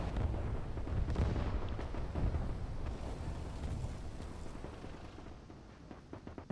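Naval artillery in the WWII strategy game Gates of Hell, a heavy rolling barrage of deep booms and rumbling blasts that blur into a continuous thunderous roar, gradually easing off toward the end.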